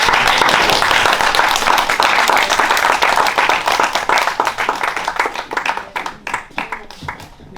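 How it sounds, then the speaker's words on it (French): A congregation applauds during a church service: loud, dense clapping that gradually thins into separate, sparser claps and fades toward the end, with no talk over it. "Je me demande d'applaudir encore Annabelle"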